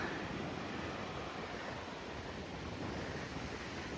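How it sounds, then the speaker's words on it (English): Wind blows across an ocean beach with surf behind it, a steady low rushing noise and microphone buffeting that stays even and moderately loud throughout. "I know it's really windy"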